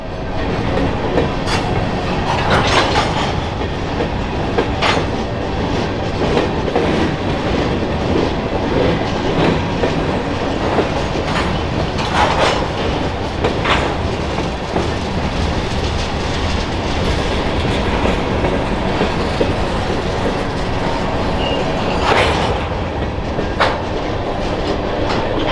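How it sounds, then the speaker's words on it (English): A mixed freight train builds its consist on the west end yard lead at Havre, rolling steadily with continuous heavy rumble, rhythmic clickety-clack of wheels over rail joints, and occasional sharper clanks and squeals throughout. "the crew of a mixed freight train begins to build their consist on the west end yard lead"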